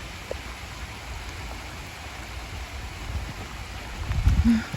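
Heavy rain falls in a steady, even hiss that stays fairly quiet throughout, with a brief low thump and rustle near the end.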